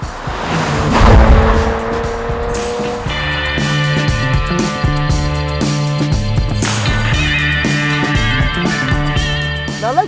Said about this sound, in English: It's a sweet V6 sound, rumbly at low speeds, moving to a baritone when you push it hard.